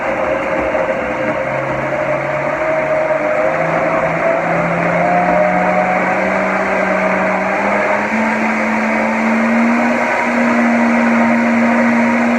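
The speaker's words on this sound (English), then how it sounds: "We're just going to give it a stir and then blend it one more time." Blender whirring through a pumpkin pudding mixture with dates, a loud continuous motor drone whose pitch slowly rises as the blend smooths out, running alone without speech.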